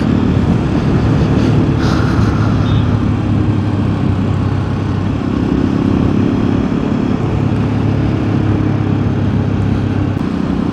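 A Hero Xpulse 210 motorcycle is ridden on an evening road at about 50 km/h, giving a steady, loud engine drone mixed with wind rush that holds unbroken for the whole stretch.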